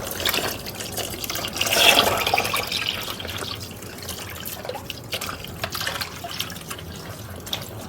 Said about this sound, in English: That's cold water.